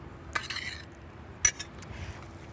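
A metal spoon folds a teaspoon of butter through steamed rice in a bowl, with a few soft scrapes and two sharper clinks against the dish, quiet and close with pauses between.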